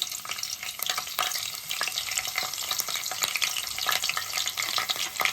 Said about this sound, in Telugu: ఆయిల్ వేడి అయింది. మనం కట్ చేసుకున్న పచ్చిమిర్చి వేసుకోవాలి